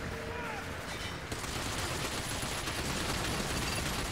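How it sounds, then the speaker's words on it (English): Missile launches and gunfire in the video game Binary Domain, a dense continuous roar of shooting and explosions that swells sharply after the first second and stays loud and unbroken to the end. "Why won't he stop shooting missiles?"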